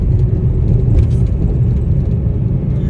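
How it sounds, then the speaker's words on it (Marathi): Cars pass close by on a road just after a traffic signal turns, giving a steady, loud engine rumble and tyre whir with no break for the full three seconds. "सिग्नल सुटला आहे त्याच्यामुळं जरा गाड्या जोरात गेलेल्या आहेत"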